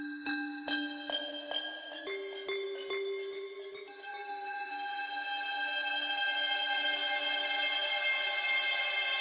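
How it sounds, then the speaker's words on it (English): A bell sample in Ableton rings in a series of bright, struck tones, first dry and clipped, then one long ringing stroke with reverb that swells with a lingering, reverberant tail. "let's hear how the bell sounds with and without reverb"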